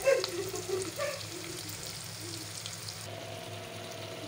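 Fish sizzles steadily in a hot pan while other dishes cook nearby, a constant close hiss with a few faint clinks early on and a brief lull partway through.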